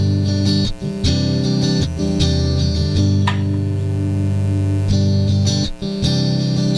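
An electric guitar played through a Valeton GP200 with an acoustic impulse response rings out in sustained, strummed chords with brief gaps between phrases, giving a full, steady and fairly loud tone with a faint hum beneath.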